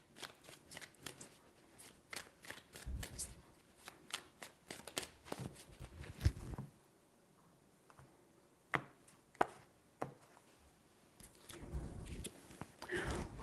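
Tarot cards are shuffled in quick riffling bursts, several separate rounds of crisp card flutter and taps broken by short quiet gaps, close to the listener with little talk.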